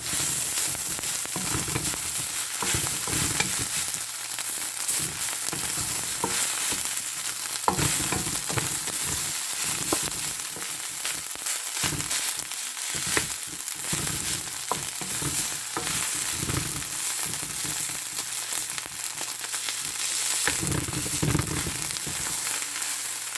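Garlic fried rice with egg is stirred and scraped around a hot pan, a continuous loud sizzle broken by repeated bursts of spatula scraping at an irregular rhythm, close up with no talking.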